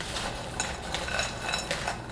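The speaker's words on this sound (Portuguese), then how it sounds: "Aí a gente vai misturando." A healthy salad with raisins being tossed in a bowl, utensils scraping and lightly clinking against the dish in a steady, soft rhythm, close up with no talking.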